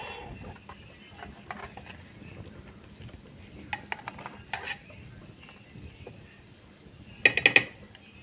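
Ghee simmering in a pot bubbles softly while a spoon stirs it, with scattered light scrapes and a short cluster of metallic clinks near the end.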